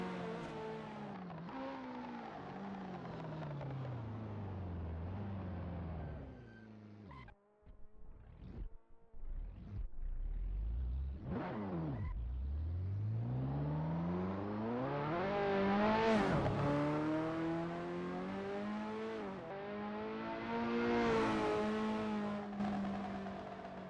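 A Ferrari F40 race car engine in a racing video game at Sonoma Raceway's long circuit, revving and rising through gears on a practice out lap, with a brief lift and sharp blips mid-run before pulling hard again, loud and close.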